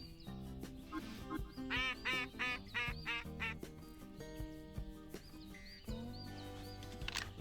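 In a Cabela's outdoor hunting video game, a duck call gives a rapid series of quacks in the middle stretch over a busy game soundscape and music, with more calls near the end; no talking.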